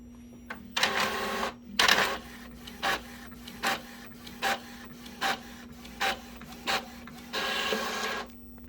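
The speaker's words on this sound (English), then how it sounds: "Printing. Let's see how it goes." An Epson EcoTank ET-2760 inkjet printer runs through a printing job: a steady hum beneath regular bursts of whirring carriage passes and paper feed, close by.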